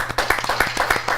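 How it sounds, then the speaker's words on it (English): A studio audience claps for a guest on a talk show, sharp distinct hand claps in a quick irregular patter, close and fairly loud, lasting only a moment. "Can we get some applause for this man, please?"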